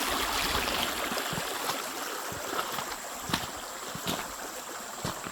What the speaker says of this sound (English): is the flow of our creek here